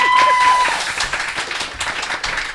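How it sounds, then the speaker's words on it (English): An audience at a live cabaret contest show claps for a contestant, a steady burst of applause at moderate loudness that fades slightly toward the end. "then give her a round of applause"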